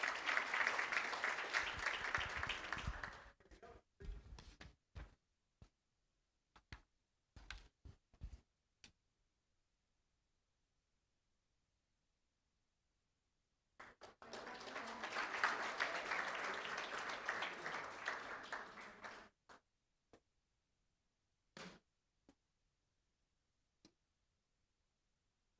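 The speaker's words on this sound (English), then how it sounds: "Let's give them a round of applause for all of their support." Audience applause at a school district board of trustees meeting honoring parents, two separate bursts of clapping with scattered claps trailing off between and after them, in a large room.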